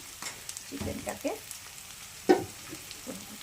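Onions frying in a pan for a thin papaya chicken curry, a soft steady sizzle with a few faint stirring scrapes and one brief louder clatter.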